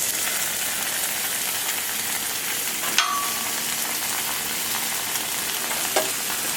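Canadian bacon and an egg with cheese fry on a Camp Chef Sidekick griddle, giving a steady, even sizzle throughout with two sharp clicks partway through and no talking.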